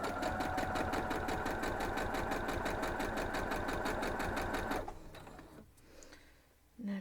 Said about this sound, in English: I'm just going to pull them over one by one and sew them through.